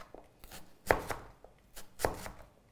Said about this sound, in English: now I can turn it on its side and go and cut down like this